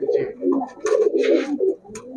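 Rajshahi Giribaz high-flyer pigeons at a pigeon shop coo in soft, throaty, repeated bursts close by, with brief pauses between calls.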